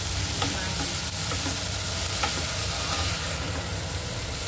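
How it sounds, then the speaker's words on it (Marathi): Onion and tomato sauté in a pan for a hadga flower vegetable dish, a steady close sizzle with light intermittent scrapes of stirring throughout, no talk. "आपला कांदा आणि टमाटर आपल्याला खूप छान असं परतून घ्यायचं आहे"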